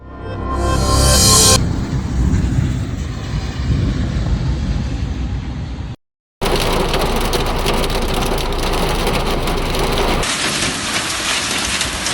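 Heavy rain in an evening thunderstorm with strong wind in Zhytomyr: a dense, loud hiss of downpour pounding surfaces, broken by a short gap and an abrupt shift to another steady roaring stretch, with no voices.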